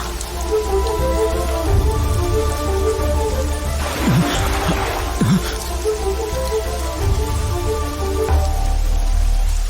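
Heavy monsoon rain falls steadily and loudly throughout, a dense continuous wash with a few brief thumps near the middle, set against a dramatic music bed.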